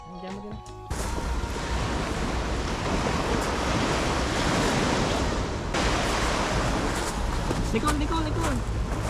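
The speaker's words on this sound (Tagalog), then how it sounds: "naisipan ko nga dalhin si Nicole sa tabing dagat dito sa harap ng hotel" Ocean surf rolling onto the shore at a beach in front of a hotel, a steady broadband wash with wind buffeting the microphone, continuous and fairly loud after a brief quieter opening.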